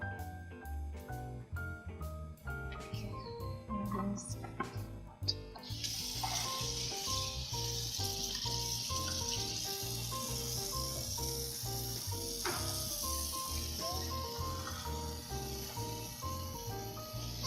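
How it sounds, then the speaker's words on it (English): Organic kale leaves are rinsed under running water in a kitchen, a steady hiss of flowing water over music playing throughout. "So I still rinse the leaves"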